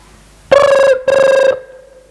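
A telephone rings while calling a police station, two near, loud electronic ring bursts separated by a short gap, ending in a lingering tone, with no talking.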